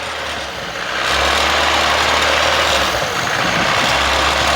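A VAZ 2109 carburetor engine runs loud and close, just after carburetor cleaner is sprayed into the carburetor. Its rough, steady drone swells after the first second and then holds with slight sagging in revs, with no talk.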